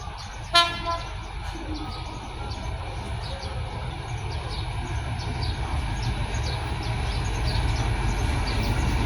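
An ordinary passenger train 260 with an Alstom diesel locomotive, number 4204, at Salaya station in Thailand gives one short horn toot, then a steady rumble of diesel engine and rolling wagons builds slowly. No voices are heard.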